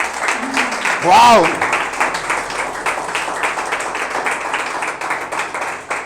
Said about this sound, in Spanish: ¿No le puedes dar un aplauso al Señor?